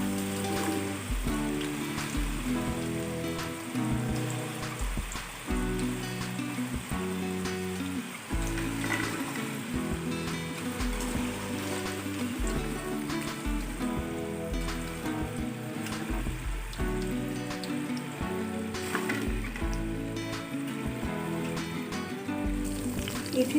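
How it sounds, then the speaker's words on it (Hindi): Potato chips deep frying in hot oil give a steady, dense sizzle that runs throughout, mixed with rhythmic background music. "इसी तरह से मैं अपनी बाकी चिप्स को भी फ्राई कर लेती हूँ"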